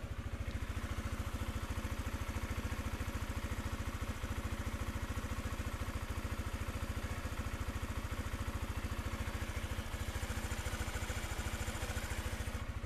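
A 2019 Honda Sonic 150R motorcycle engine idles steadily with an even, rapid mechanical pulse, close up and constant throughout, with no voices.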